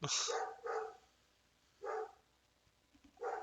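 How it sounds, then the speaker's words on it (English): A dog barks in four separate bursts, loud and close, with pauses between them and no talk over the barking. "My dog is very upset."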